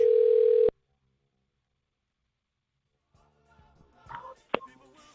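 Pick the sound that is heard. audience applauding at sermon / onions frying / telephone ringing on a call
telephone ringing on a call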